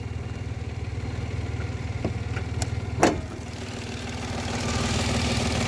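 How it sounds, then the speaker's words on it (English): A 2013 Mitsubishi Mirage 1-liter engine with an LPG conversion idles with the hood open, a low steady hum with a single sharp click partway through. "This is the engine."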